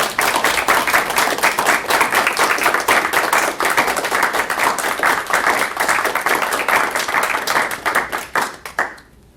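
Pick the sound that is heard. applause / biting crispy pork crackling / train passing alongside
applause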